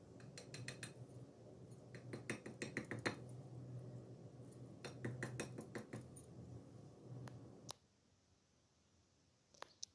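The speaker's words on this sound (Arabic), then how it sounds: "أنا هنا هسمعكوا صوته مقرمش ازاي" Crisp crunching and clicking bursts from syrup-soaked fried dough pastry (balah el sham) come in quick irregular clusters up close, then stop, leaving near silence with a couple of faint clicks.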